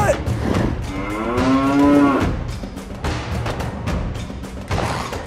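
A cow lets out one long, loud, close moo that swells and falls, followed by scattered thumps and knocks.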